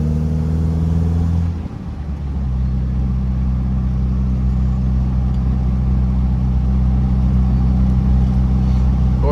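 A 1969 Datsun Roadster drives along, its engine note dipping briefly near the start, likely at a gear change, then settling into a steady, close, continuous hum with no talking.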